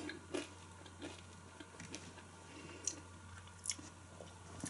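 Close-up chewing of thin, crispy fried yam chips, with soft irregular crunches and squishy bites spread over several seconds, quiet and intimate with no talking.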